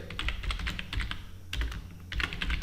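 A template name comment being typed on a computer keyboard: bursts of quick, close key clicks separated by short pauses, with no speech.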